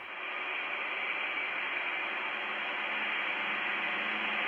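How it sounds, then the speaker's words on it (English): Steady broadband hiss of white noise, constant and unchanging in level, filling the whole stretch with no other sounds. "Ah, yes, white noise, thank you."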